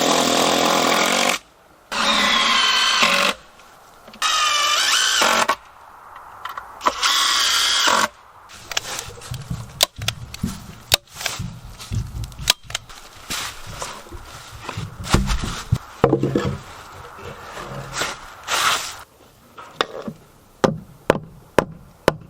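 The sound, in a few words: saw cutting pressure treated lumber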